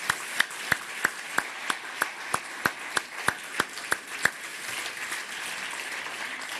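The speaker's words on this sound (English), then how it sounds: "so we can give a big applause for this entertaining and informative" Audience applause for lightning talk speakers at a hacker conference, heard as a steady rhythmic series of about a dozen sharp claps, evenly spaced and prominent over a softer bed of crowd noise.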